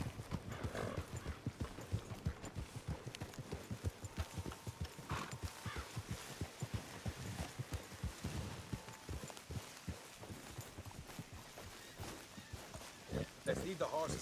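Steady, rhythmic clip-clop of several horses trotting close by in the video game Red Dead Redemption 2, with a voice speaking briefly over the hoofbeats and a snort near the end.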